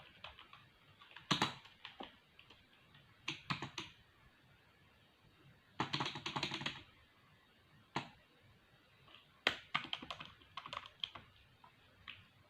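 Computer keyboard typing in MS Word comes in bursts of rapid clicks, dense clusters separated by short pauses, close and fairly quiet with no speech.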